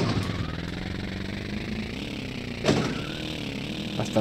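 Motorcycle engine in the Tomb Raider video game, ridden across the London rooftops: a steady mid-pitched drone that shifts pitch slightly as it runs, with two short louder bursts near the end.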